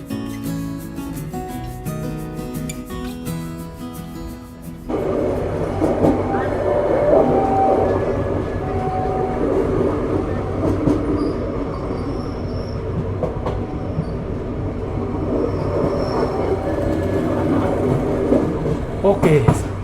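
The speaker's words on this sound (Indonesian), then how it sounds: "saat ini kereta api Rangga Jati melintas langsung di stasiun Wonokromo" The Ranggajati executive-class passenger train runs straight through Wonokromo station without stopping, rumbling loudly with steady wheel clatter and rolling noise close by, some brief squeals and faint talk in the background.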